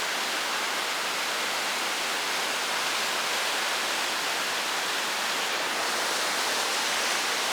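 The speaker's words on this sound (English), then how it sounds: "waterfall from up above." A waterfall in the Lake District heard from above, a steady, dense, broadband rush of falling water that stays constant and fairly close throughout, with no voices.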